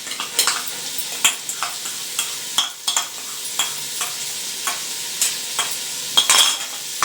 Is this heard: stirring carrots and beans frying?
yes